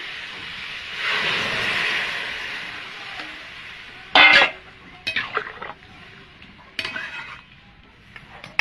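Water poured into a pan of frying potato and tomato curry sets off a loud, rushing steam hiss that fades after a couple of seconds, followed by a few sharp clanks and scrapes of utensils against the pan.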